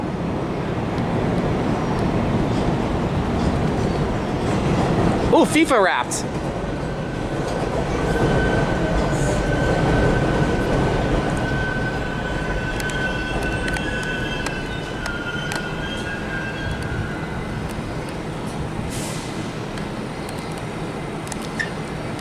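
A New York City subway 7 train pulls in close by, a loud rolling rumble with a sharp burst of metallic squeal and clatter early on, then a sustained wheel whine; a voice briefly exclaims over it.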